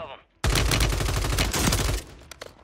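RAM-7 assault rifle fire in the video game Warzone: a loud, rapid automatic burst lasting about a second and a half, then a few scattered single shots, with a voice briefly heard.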